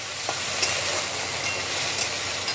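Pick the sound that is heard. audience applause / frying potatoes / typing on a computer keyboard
frying potatoes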